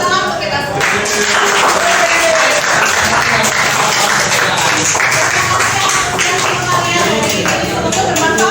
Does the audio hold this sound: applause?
yes